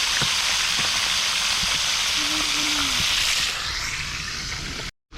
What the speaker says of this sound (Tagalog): Prito-prito muna tayo ngayon.